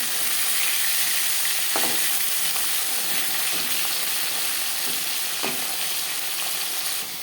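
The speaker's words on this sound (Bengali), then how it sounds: "মাছের মাথা একটা সাইড ভাজা হয়ে গেলে অপর সাইডটা উল্টে দেবো" A rohu fish head frying in a pan gives a loud, close, continuous sizzle and hiss, with a few soft knocks of stirring or turning over the steady spatter.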